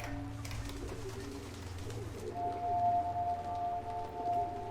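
Pigeon-like birds in the game Antichamber coo in a soft, repeated pattern over a constant low hum, the calls growing slightly louder and clearer toward the end.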